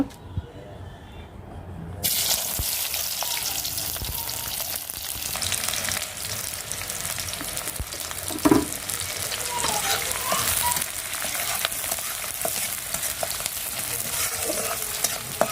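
Chicken meat frying in a pan with onion, garlic and chili, a steady close sizzle that jumps louder as the meat goes in and carries on with stirring scrapes, someone talking over it.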